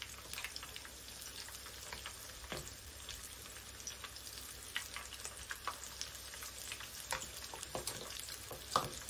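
Corn kakiage fritters made from flour, water and fresh raw corn frying in hot oil: a close, steady bubbling sizzle peppered with sharp crackles and pops, with no talking.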